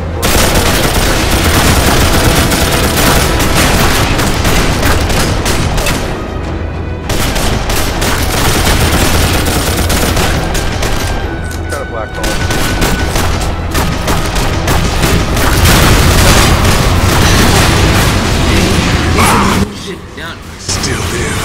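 Enemy gunfire in the shooter game The Darkness 2, with sustained loud bursts of automatic fire and booms throughout, mixed with game sounds, and players talking over it.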